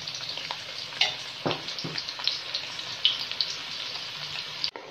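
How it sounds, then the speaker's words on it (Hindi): Steady oil sizzle and crackle of a large onion frying in oil in a pan until golden brown, with occasional louder spits and stirring scrapes, close and continuous. "प्याज को हम फ्राई कर लेंगे।"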